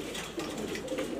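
A female grizzle pigeon coos softly and steadily for a moment, a low, faint murmur close by with no other sound over it.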